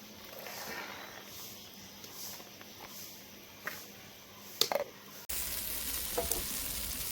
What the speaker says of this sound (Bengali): এখন মশলা ভেজে নিয়েছি, তেল বেরিয়ে গেছে